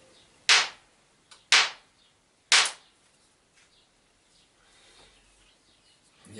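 Three sharp strikes of a hammerstone on a quartzite cobble, knapping a Paleolithic-style stone flake, evenly spaced about a second apart, crisp and close, followed by faint rustling.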